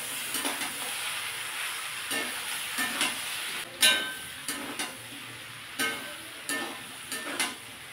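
Chopped tomato and ground chilli, coriander and cumin sauté in a pan, a steady frying hiss punctuated by regular sharp spatula scrapes and stirs.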